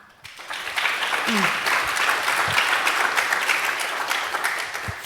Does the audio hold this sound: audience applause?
yes